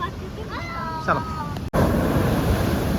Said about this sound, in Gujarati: ઓહો એ કેવો મોજો આવ્યો મિત્રો